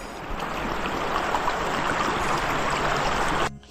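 Rishikhola, a mountain river, flows gently over boulders in a steady close rush and babble of water that holds even for several seconds, then cuts off abruptly near the end.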